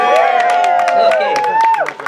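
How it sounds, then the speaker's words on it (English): An audience at a full-service circus welcome event claps and cheers for grill master Mike, a dense burst of clapping with whoops over a speaking voice, then tapering off near the end. "Clap it up for Mike, y'all"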